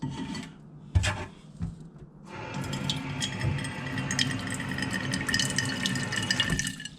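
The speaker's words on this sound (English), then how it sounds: "So I'm just going to put some water in its plate." Water poured into a plant's plate, grass growing on coconut coir: a few light knocks, then a steady close trickling and splashing that runs for several seconds.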